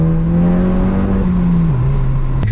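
A VW Golf GTI Mk7 with a loud aftermarket exhaust revving, a sustained droning engine note that holds steady and then dips as revs fall, close and loud with no talking.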